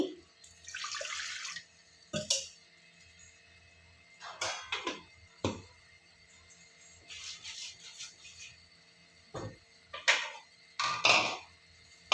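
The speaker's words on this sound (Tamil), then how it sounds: "இதில் தண்ணி விட்டு நான் அலம்பிட்டுக்கலாம்." Water runs in several short bursts with pauses between, close by, poured in for rinsing, alongside light clinks and handling sounds.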